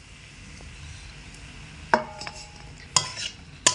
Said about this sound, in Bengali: তো আলুগুলোকে এখানে দিয়ে দেব।